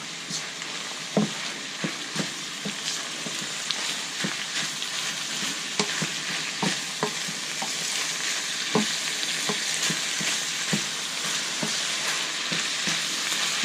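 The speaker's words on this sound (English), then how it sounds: "let me stir that around" Picadillo of ground beef frying in a pan with broad steady sizzle, while a spoon stirs it, giving scattered scraping taps throughout.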